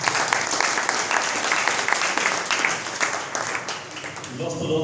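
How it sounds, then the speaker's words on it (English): Audience at a hackathon event gives a steady round of applause, dense overlapping clapping that holds at a fairly loud level for several seconds before thinning slightly near the end, with some crowd voices mixed in. "So I think Guus deserves a big applause for that."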